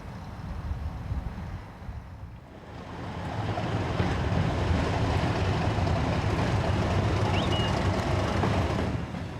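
A Class 37 diesel locomotive, 37108, rumbles past close by, its heavy engine drone and wheel noise building after a quieter start and holding steady.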